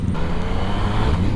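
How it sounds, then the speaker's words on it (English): A car passes close by with a loud, steady engine roar and road rumble throughout, the engine revving as it goes. "That dude just revved at me."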